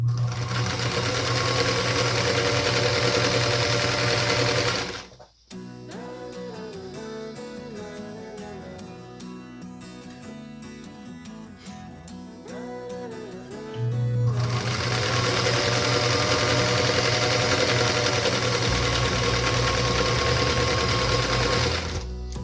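A sewing machine chain-pieces quilt squares for a nine-patch star block, a steady, loud, close mechanical whir that stops briefly mid-way, then resumes at full speed.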